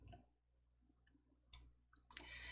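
A computer mouse clicks a few times while choosing the Gungsuh font in PowerPoint: soft, close, isolated clicks separated by quiet gaps, with no voices.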